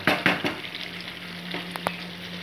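Chicken kosha frying on high flame, a continuous sizzle broken by a few sharp stirring scrapes near the start and again toward the end, with no talk.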